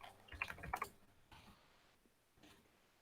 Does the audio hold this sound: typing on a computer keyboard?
yes